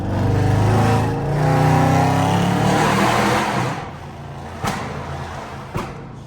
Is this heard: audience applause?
no